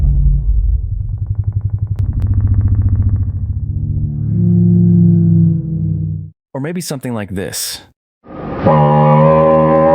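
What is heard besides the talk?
fake T-Rex roar made from real animal sounds slowed down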